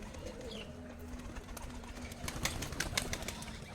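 Tumbler pigeons at feeding time on a loft farm give faint low cooing with scattered wing flaps and light clatter, quiet and somewhat distant, no voices.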